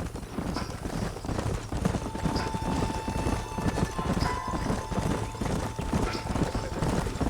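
Horses galloping in Red Dead Redemption on PS3, a dense rapid clatter of hooves continuing throughout with game ambience underneath.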